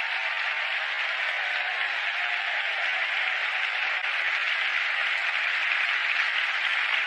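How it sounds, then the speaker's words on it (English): Large Oscars 2020 ceremony audience applauding the actors and crew of Parasite, a steady dense wash of clapping that holds even and loud throughout with no break. "Please send a round of applause to the actors and crew members of Parasite"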